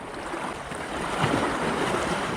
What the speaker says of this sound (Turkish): Dalgalar da iyice arttı.